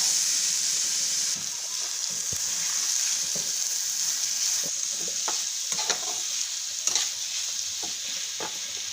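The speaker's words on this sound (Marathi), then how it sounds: "चांगला परतून घ्यायचा आहे भोपळा" Pumpkin pieces being sautéed for kheer, a continuous hissing sizzle with repeated scraping and stirring taps of a spatula in the pan.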